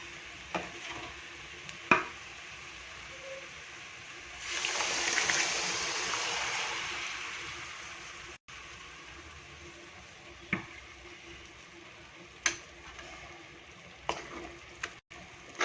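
Cooked chana dal (split Bengal gram) is stirred into a simmering curry in a pan: a wet, sloshing scrape that swells for a few seconds, then settles to a quiet bubbling with occasional soft clicks.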